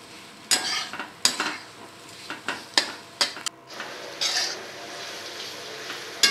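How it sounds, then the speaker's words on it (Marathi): Roasted bitter gourd is stirred into a sizzling masala, the spoon knocking and scraping against the pan in a run of loud, irregular clacks over a soft frying hiss, no one speaking. "नंतर त्याच्यात ती भाजलेली कारली आपण टाकणार आहोत आणि मस्त असं हलवून घ्यायचं"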